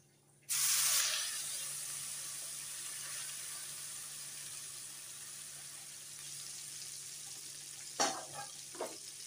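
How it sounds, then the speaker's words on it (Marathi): Ground masala with hing hits hot oil in a pan for a masoor curry and sizzles sharply, then settles into a steady frying hiss, with a few utensil clinks near the end. "आता आपण हा मसाला केला मिक्सरमध्ये बारीक, तो टाकून परतून घेऊ चांगलं."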